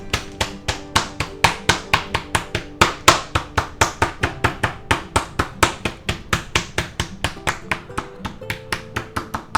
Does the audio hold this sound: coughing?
no